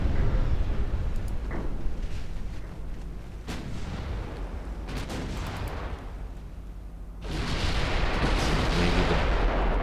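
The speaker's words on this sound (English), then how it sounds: "13-inch guns on the battle cruisers really starting to have an effect." Naval battle in Ultimate Admiral Dreadnoughts with 13-inch battle cruiser guns firing, dense booming salvos and rumbling blasts over a constant roar, swelling louder toward the end.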